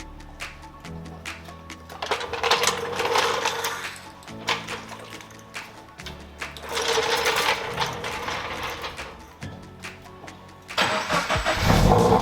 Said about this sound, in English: the cold start is like even louder than the Apexi one